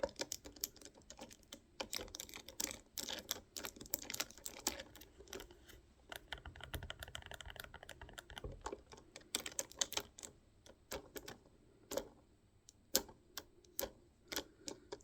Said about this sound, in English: I love the sound of plastic kids' toys